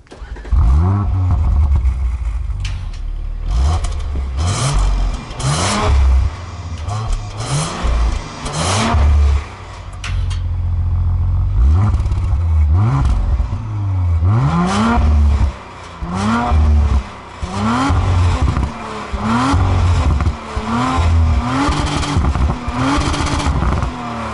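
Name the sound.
Audi RS5 2018 2.9-litre V6 engine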